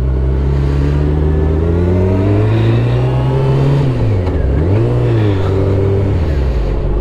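A sport motorcycle carrying side cases climbs a road, its engine loud and close, droning steadily, then dipping and surging in pitch as the rider works the throttle.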